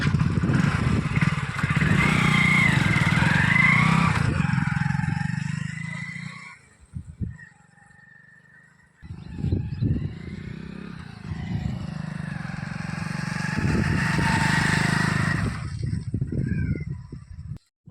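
A motorcycle engine runs loudly, cuts out briefly to near silence, then starts again and keeps running with some clatter and rising revs.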